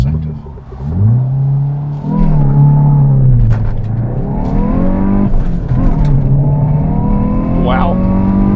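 A Hyundai i20N with a 1.6-liter engine accelerates hard in N mode, its engine note rising through the revs with a break for a gear change, loud and close from inside the cabin, with people talking over it.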